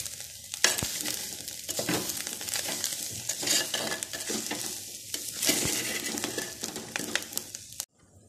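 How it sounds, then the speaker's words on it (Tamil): Variety rice stirred in a pot: a spoon scrapes and clinks against the pot while a soft sizzle runs underneath, with close, steady mixing strokes throughout. "எல்லாத்தையும் ரைஸ் கூட நல்லா மிக்ஸ் பண்ணிடலாம்"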